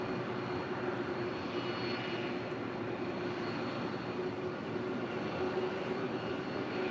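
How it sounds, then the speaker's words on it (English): Emirates airliner crossing runway 25 left at LAX, a steady distant jet engine rumble and roar with a faint whine, no talk. "Emirates now about to cross over 25 left"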